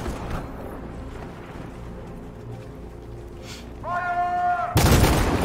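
Gunfire in the video game Detroit: Become Human: a rising tonal whine gives way to a single loud, sharp blast near the end over a rumbling game backdrop.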